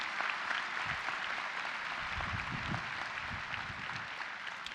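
Applause for faculty and staff at a university commencement ceremony, a soft, distant, steady clapping from a large crowd with no voices over it.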